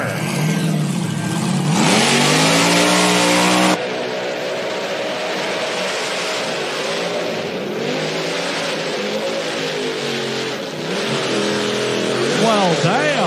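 A Dodge panel truck called the Crypt Keeper revs hard during a burnout competition, loud rising and falling engine wails up close, with an announcer talking over the noise.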